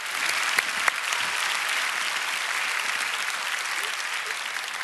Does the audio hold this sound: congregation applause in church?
yes